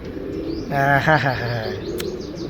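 A pigeon's soft cooing call rises briefly in the middle, close by, over a low background hum, with a short chirp near the end.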